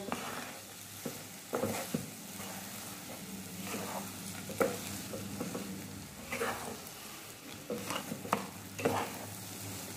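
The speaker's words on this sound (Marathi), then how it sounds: "जास्त क्वांटिटी असेल तर चांगलं खालीवरती व्यवस्थित असे हे हलवावं लागतं" Semolina sheera for puja prasad being stirred in a pan, repeated scraping spatula strokes at an uneven rhythm over a low steady background, no talking.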